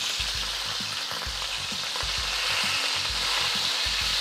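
Short ribs searing bone-side up in a hot pan for a red wine braise: a steady, close sizzle with regular low thumps and knocks throughout, no talking.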